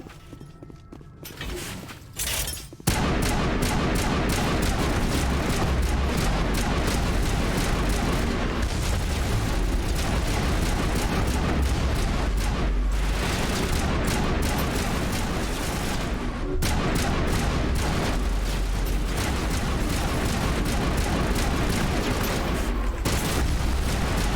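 Sustained gunfire and booming blasts in Mass Effect Legendary Edition, loud rapid bursts pounding almost nonstop after a short quieter opening, with heavy low rumble throughout.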